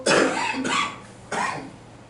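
Three harsh coughs from a preacher during a church sermon, spaced about 0.6 seconds apart, loud and close, with no talking.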